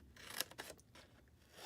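Scissors snipping pie-piece wedge shapes out of the bottom corners of a fabric mini tote bag, a few quiet crisp cuts and rasping blade strokes close by, with no talking.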